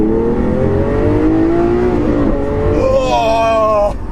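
Lamborghini with a 700 brake horsepower engine revving hard through the lower gears, loud close rising engine notes with quick upshifts, ending on a higher-pitched surge that drops off abruptly.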